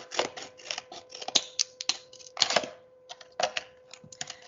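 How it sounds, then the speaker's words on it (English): Scissors snipping vertical cuts into a plastic bottle container, a series of close, crisp crunching snips in irregular bursts with short gaps between them. "we need to cut some vertical lines into our plastic container"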